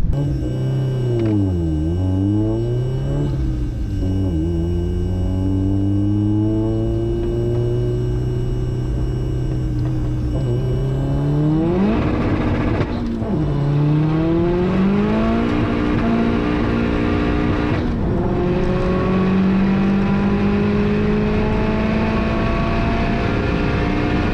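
High-power cars including a Toyota Supra and a Porsche at a half-mile rolling-start race from 40 mph, engines droning and revving through gear changes, loud and continuous, with rising and falling pitch as they accelerate.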